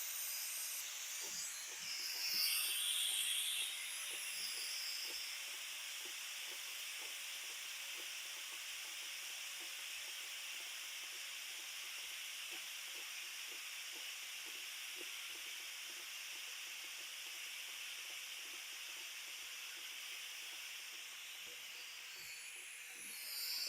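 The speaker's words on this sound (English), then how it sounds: "So I'll release the steam." Steam hisses steadily from an Instant Pot's quick-release valve while plant-based spaghetti cooks, a broad, loud, continuous jet of vapour that holds evenly for over twenty seconds with faint crackles beneath.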